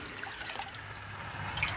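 Water sucked down into the delivery pipe of a low head turbine under test, a soft steady trickling and gurgling rush, faint and close, swelling slightly at the end.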